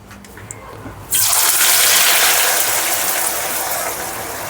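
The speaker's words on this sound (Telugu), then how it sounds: "నూనె బాగా మసులుతుంది." Oil heating vigorously in a frying pan for chicken dum biryani, bursting into a loud, steady hiss and sizzle after a quiet second, then holding strong with no speech.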